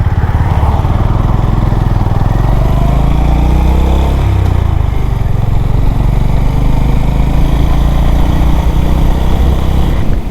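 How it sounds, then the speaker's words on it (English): Honda GB350 motorcycle engine running steadily while riding, a loud continuous low throb with a slight change in pitch midway, close and constant throughout with wind rumble. "I'm riding her GB350 from Honda"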